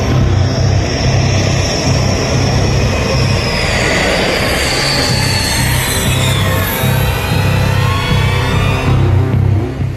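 Rafale fighter jets flying from the UAE toward India make a loud, sustained engine roar overhead, with whining tones that sweep and shift pitch as the aircraft pass close by.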